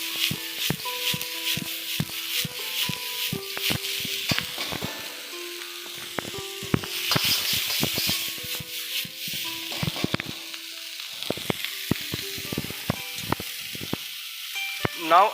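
Cabbage, capsicum and broccoli being stir-fried in a pan: a continuous sizzle broken by frequent clattering scrapes and knocks of stirring, close and fairly loud throughout.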